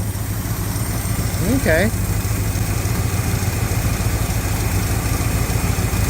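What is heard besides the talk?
engine idling roughly, misfiring on a cylinder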